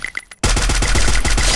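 After a brief quieter stretch of faint clicks, a loud, close burst of rapid automatic gunfire erupts in a mobile battle royale video game, with steady, tightly spaced shots.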